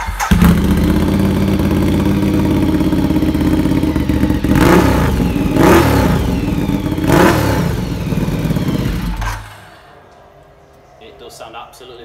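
Ducati Diavel 2011 motorcycle engine running loud and close, with a deep rumbling idle broken by three sharp throttle blips before the engine cuts and falls quiet.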